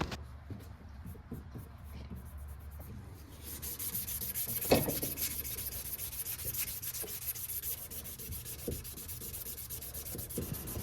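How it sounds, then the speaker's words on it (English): Sandpaper rubbed by hand around a round wooden knife handle, a soft quiet scratching that starts light and then becomes steady back-and-forth rasping strokes, close and continuous. "When hand sanding round handles like this one, I'll use the shoe shine method"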